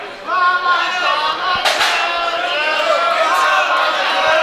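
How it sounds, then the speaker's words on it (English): Wrestling crowd in the Bronx cheering and chattering in a dense, sustained roar, with a couple of brief sharp pops and possible announcer talk woven through the noise. "And you hear the crowd here in the Bronx."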